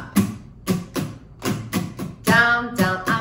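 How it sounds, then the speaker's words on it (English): An acoustic guitar strums a pop rhythm in a down, down, up, up, down, up pattern: a run of roughly seven crisp, evenly spaced strokes, close and moderately loud, with the last few ringing more fully. "It sounds like this: down, down, up, up, down, up."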